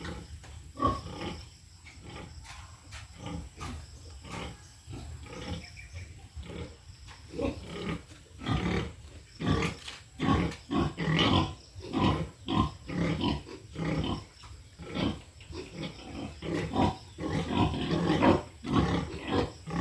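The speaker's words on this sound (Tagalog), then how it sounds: "Yung baboy niya." Pigs grunt and squeal in a busy piggery on a pig farm, a dense run of repeated grunts near and far over steady barn hum, growing louder and more frequent toward the end, with no talking.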